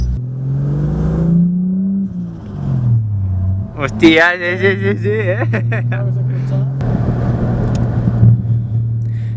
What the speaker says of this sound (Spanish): Es un motor 3000 de 6 cilindros turbo de 230 caballos.